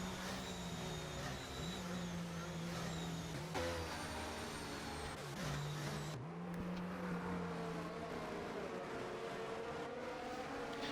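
Race cars from a racing video game rolling behind a safety car, a steady droning engine hum with a shifting tone that holds throughout, fairly loud and with no talk.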